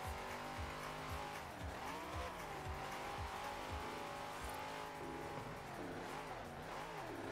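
A Forza Horizon 4 car engine revs up and down in sweeping waves as tires squeal through a drift, loud and continuous.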